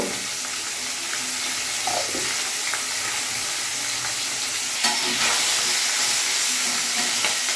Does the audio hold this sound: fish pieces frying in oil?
yes